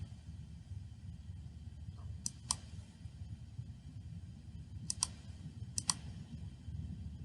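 Sharp computer mouse clicks while working in OnShape CAD software, three pairs of quick double clicks spaced a few seconds apart, crisp and close over a low steady room hum.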